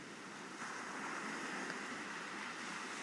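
Steady ocean surf washing onto a shore, a continuous broadband rush that swells slightly louder partway through, with some wind noise and no voices.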